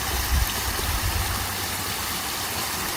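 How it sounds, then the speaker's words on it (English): Small solar-powered garden waterfall at a sustainable house, giving a steady, continuous low rush of trickling water that holds an even level throughout, with no voices. "This is just the waterfall again."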